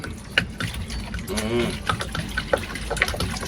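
Water pours and gushes into a pot of boiling stew peas over an open-air, off-grid outdoor kitchen fire, splashing unevenly with small clinks and bumps while people talk nearby.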